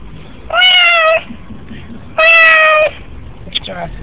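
A cat meows twice, each cry long and clear, with a brief faint rustle between and a soft click near the end.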